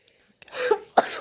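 A short, sharp sneeze bursts out up close, followed quickly by a second explosive breath.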